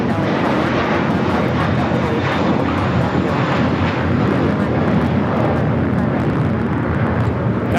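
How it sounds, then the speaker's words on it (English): American Airlines Airbus A321 taking off at LAX, a loud, continuous roaring jet engine rumble with broadband rush that holds steady throughout, heard close with no talk. "That is American Airlines 2890 taking off to Dallas Fort Worth on the A321"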